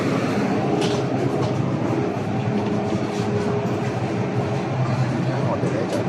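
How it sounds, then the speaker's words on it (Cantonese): A subway train rumbles at a metro station, a loud continuous roar of wheels and motors with faint rail clatter, and voices murmur underneath. "好快，我哋到咗地鐵站，"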